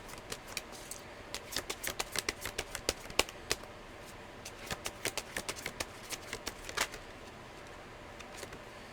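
A deck of tarot reading cards is shuffled close by, producing rapid crisp riffling clicks and flutters in irregular bursts, quiet and alone.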